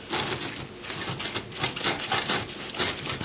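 A saw cutting through a loaf of bread held in a miter box, making rapid, rhythmic rasping strokes back and forth, close and continuous for several seconds.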